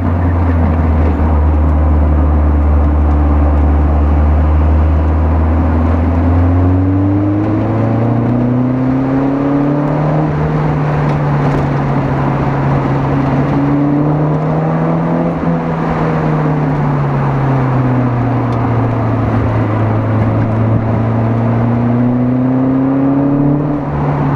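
Older, non-modern car engine revving while being driven, loud and continuous, its pitch climbing and falling in repeated waves as the car accelerates and eases off.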